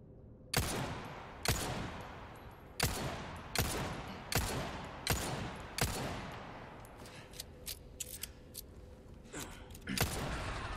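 Gunfire from shooting in Resident Evil 4 Remake: about a dozen distinct gunshots, the first several spaced roughly a second apart, then quicker, irregular shots, each crack followed by a short echoing tail, close and alone.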